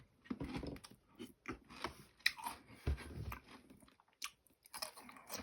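Vegetables dipped in sauce are bitten and chewed up close, giving a run of wet crunches and mouth sounds in uneven bursts with short pauses between.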